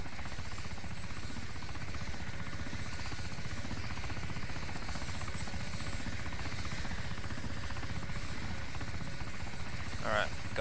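A helicopter's rotor and engine in the game DayZ on Arma 2 Overpoch drone steadily with a rapid rhythmic chop throughout, loud and continuous, as players talk over it.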